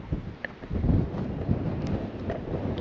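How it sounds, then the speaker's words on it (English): Gusty wind buffets the microphone at the seaside near Port Lincoln, a low rumbling blustery roar with uneven thumps throughout and no clear speech. "All right, it's windy,"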